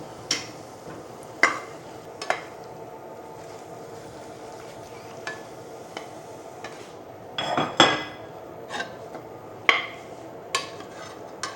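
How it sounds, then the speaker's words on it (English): A spoon stirs food in a bowl with a few sharp scrapes and clinks against the sides, scattered and close, with quieter shuffling in between and no talking. "Give it a little mix and we're all done."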